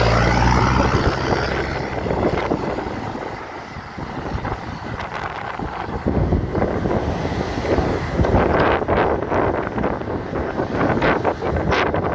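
Strong wind gusts buffet the microphone on a high bridge at Deception Pass park in Oak Harbor, a loud continuous roar with rumbling bursts and no clear talk.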